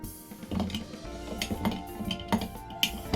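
A spoon clinks and rattles inside a glass while a drink is stirred, giving close, bright taps at irregular intervals over a low background clatter.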